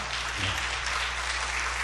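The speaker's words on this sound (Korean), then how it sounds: "우리 크게 한번 박수 쳐드리죠" Brief applause from a church congregation, a continuous, fairly loud patter of clapping that stays level from start to finish with no talking.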